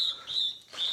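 A prinia, a small songbird, calls with two thin, high whistled chirps separated by a brief gap, close and clear over a quiet background.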